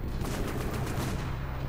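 Continuous gunfire in the online shooter Dust 514 during a Domination match, a dense, steady roar of shots close by with no clear breaks, and no talk over it.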